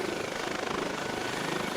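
Eurocopter HH-65 Dolphin helicopter in the Flight Simulator X game, a steady rapid rotor chop over a whining turbine drone, fairly quiet and continuous with no voices.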